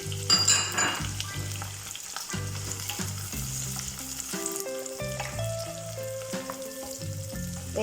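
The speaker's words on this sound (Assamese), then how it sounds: "এইখিনি বেছি সময় ভাজিব নালাগে, অলপ ভাজিব লাগে সময়, এক মিনিটমান ভাজিব লাগে" Green chillies and capsicum fry in a pan for chilli chicken, a close, steady sizzle with stirring scrapes and occasional clinks of utensil against the pan.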